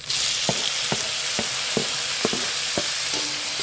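Tomatoes dropped into hot oil for noodles fry with a steady broadband sizzle, punctuated by regular sharp clinks of a spoon stirring the pan about every half second, with no talking.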